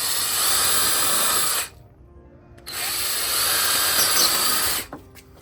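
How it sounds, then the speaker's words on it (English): A power drill bores screw holes for a garden trellis, a loud close high whine running steadily for about two seconds, stopping briefly, then running again before cutting off. "We're gonna make 2 holes for the screws,"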